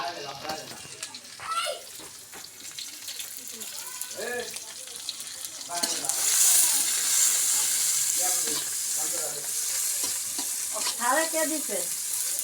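Cumin, chopped garlic, chopped onion and green chili fry in a pan, a close steady sizzle that swells louder midway, with someone talking over it.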